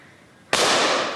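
A single sharp shotgun blast at an outdoor bird shoot, sudden and loud with a short fading tail, close by and alone.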